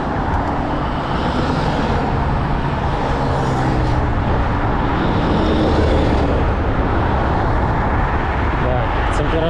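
Electric motorcycle on Flipsky 75100 controllers cruising at about 80 km/h among road traffic, loud continuous wind and road roar with passing vehicles and a voice talking over it.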